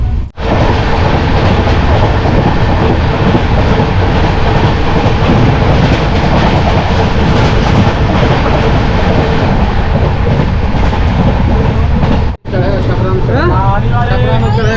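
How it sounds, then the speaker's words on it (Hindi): Loud, steady rumble and rattle of the Purvanchal Express passenger train running, heard from an open sleeper coach door near Chhapra Junction, with wind noise throughout and voices talking over it, briefly cut near the end. "कुछ देर में अपनी ट्रेन छपरा जंक्शन पहुंचने वाली है"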